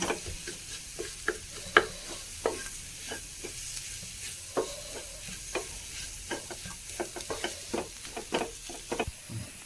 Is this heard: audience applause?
no